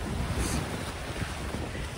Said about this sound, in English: Them waves coming in too.